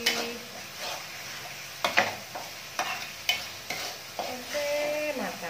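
Spiced potatoes frying in a pan for sambal goreng kentang, with a steady sizzle broken by repeated sharp scrapes and clanks of stirring, close and loud, with no voices.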